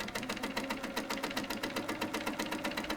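A sewing machine stitches steadily during free motion quilting, tracing a scalloped line along the piecing seams. A rapid, even mechanical chatter of needle strokes runs close and continuous, with no talking over it.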